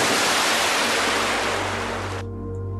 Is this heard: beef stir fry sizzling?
no